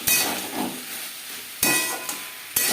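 Drumstick stems, ginger and green chilli paste and tomatoes sizzle in a pan while a spoon stirs them. Three distinct scraping stirs cut through a steady, close frying hiss, with no talking.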